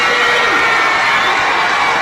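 A crowd cheering and shouting outside a courthouse as Michael Jackson waves from the top of an SUV, a loud, dense, continuous roar of voices with whoops.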